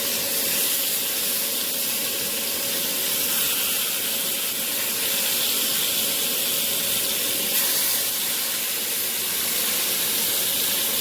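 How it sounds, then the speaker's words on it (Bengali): Fish fries in hot oil with a loud, continuous hissing sizzle that holds steady and close for the whole stretch, with no pauses. "মাছগুলো ভেজে নিই।"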